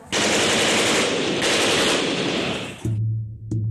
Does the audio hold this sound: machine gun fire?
yes